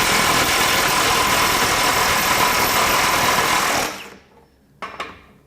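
A FLEX FX1471 high-torque cordless impact wrench hammers at 700 ft-lbs with a bigger socket fitted, a loud continuous rattling drone lasting about four seconds before cutting off, followed by a short clatter.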